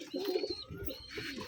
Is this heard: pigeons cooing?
yes